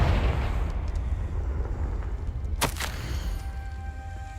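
A Confringo fire spell from Hogwarts Legacy bursts in a single sharp explosive blast midway, over a low rumbling background.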